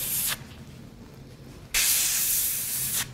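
A spray gun testing blue paint before coating a latex mask gives two close, loud hissing bursts: a short one, then a longer steady spray after a quiet pause.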